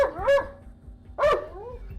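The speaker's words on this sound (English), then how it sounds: "Him barking at the doors alerted me that the suspect's in there." A police canine barks inside a building, two loud, sharp barks close by with a short whining gap between them.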